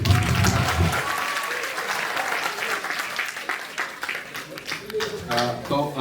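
Audience applause at a National Pharmacovigilance Week celebration, a broad wash of clapping from a sizable crowd that carries on steadily, with voices mixed in under it.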